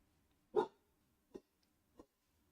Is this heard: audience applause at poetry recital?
no